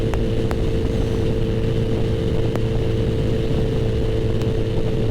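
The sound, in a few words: 2021 Kawasaki ZX-14R motorcycle riding at high speed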